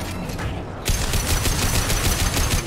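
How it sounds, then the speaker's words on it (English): Sustained assault rifle fire from a Mass Effect 2 firefight, rapid bursts starting after a brief quieter moment and continuing loud and dense throughout, close and alone with no talk. "So maybe we'll use assault rifle."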